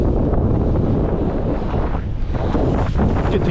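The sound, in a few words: winter wind blowing from the northeast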